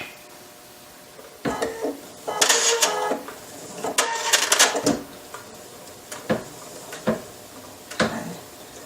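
An embroidery machine sewing a few tie-off stitches, producing irregular rapid mechanical clattering and ticking bursts at moderate volume, with no voice heard.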